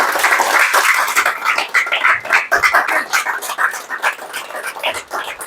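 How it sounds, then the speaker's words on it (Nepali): An audience at an award ceremony bursts into loud, sustained applause as a prize winner is called to the stage, claps dense and continuous for several seconds. "जोरदार ताली।"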